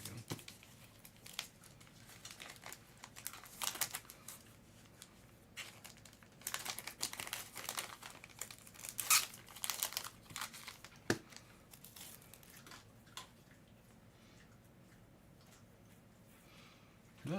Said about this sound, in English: I love it when I'm being outsmarted by the plastic bag.